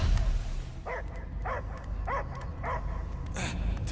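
A dog barks in Marvel's Guardians of the Galaxy video game, four evenly spaced yapping barks and a fifth sharper one over a low rumbling ambience.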